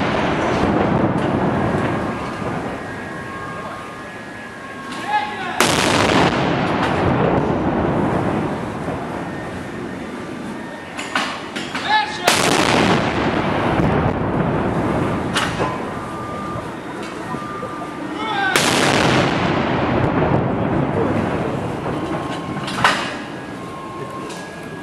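D-30 howitzers firing in Mariinskyi Park: three heavy booms about six seconds apart, each trailing off in a long rolling rumble, with a murmur of background noise between them.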